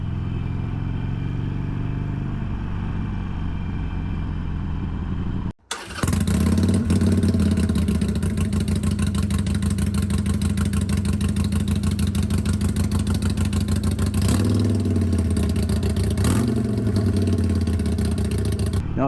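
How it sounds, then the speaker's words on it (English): A Harley-Davidson Iron 883 motorcycle with its stock exhaust idles, cuts out briefly, then fires up into a steady, close, loud, muted rumble that swells with revs near the end. "So this is what it sounds like with that sewing machine of a stock exhaust."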